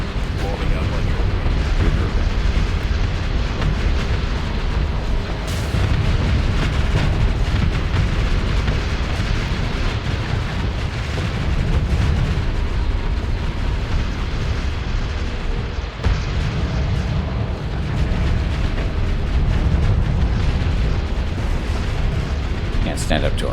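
Dense, continuous booming explosions from torpedoes and ship weapons in the space combat game Starsector, loud and rumbling throughout with layered bursts and a steady roar.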